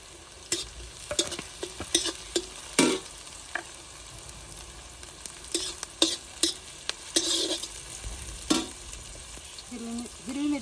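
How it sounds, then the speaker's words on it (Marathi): Carrot, ginger, garlic and green chilli fry in a pan over a wood-fired stove with a soft sizzle, punctuated by frequent bursts of spatula scraping and stirring clatter. "गाजर नंतर आल्याचे तुकडे टाकून घेऊ थोडेसे लसूण हिरवी मिरची"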